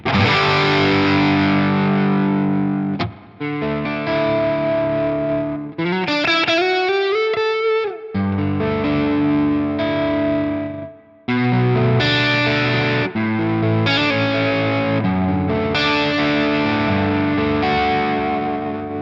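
Overdriven electric guitar through a high-gain amp with the guitar volume rolled down, played via a Valeton GP-200, full, gritty chords and a sliding lead run, loud and continuous with brief pauses between phrases.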